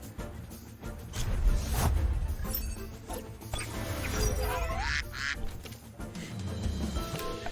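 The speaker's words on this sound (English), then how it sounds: "And then you've got Saipan who just quacks." Saipan, a creature in the Temtem game, gives loud duck-like quacks over busy game sounds and background music.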